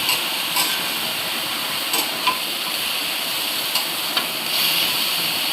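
Onion and garlic fry in a pan for cabbage bhaji, a loud continuous sizzle broken by several sharp clicks and scrapes of stirring.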